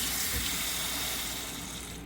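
Tap water runs steadily into a sink while freshly picked lilac flowers are washed, a continuous close splashing gush that tapers slightly toward the end.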